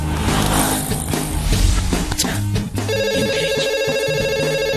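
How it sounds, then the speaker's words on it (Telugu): A mobile phone rings with an incoming call in a Telugu film scene, an electronic repeating ringtone breaking in after a stretch of music and street noise and continuing loud to the end. "ఈ ఫోన్ కాడే చేస్తున్నట్టున్నాడు."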